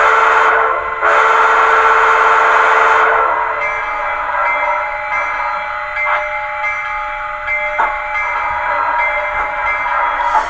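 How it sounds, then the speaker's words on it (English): Model train whistle from a battery-powered Blunami sound decoder, a loud sustained steam-style blast with a short break, then a steady lingering tone under quieter chuffing, close and alone without talk. "then it blows the whistle to let you know it's done"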